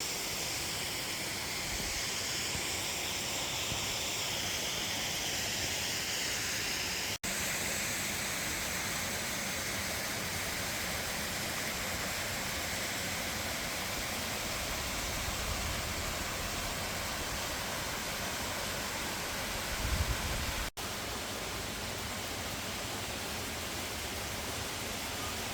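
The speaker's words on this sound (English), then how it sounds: "this is a pretty amazing waterfall anyway." A waterfall along the Blue Ridge Parkway on an autumn day gives a steady, broad rushing roar that fills the whole scene, close and constant with no pauses and no voices.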